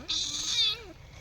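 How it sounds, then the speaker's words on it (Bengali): A cat gives one loud, drawn-out meow close by, lasting well under a second before fading into quiet room noise. "এ বিলাই"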